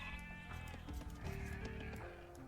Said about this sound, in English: Found some sheep.